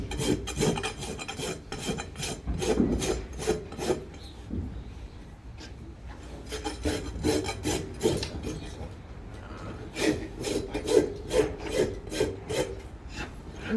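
A farrier's rasp files the hoof of a young white perlino Gypsy Vanner stallion during a hoof trim. Rhythmic scraping strokes come close up in quick runs, with short pauses between sets and no speech.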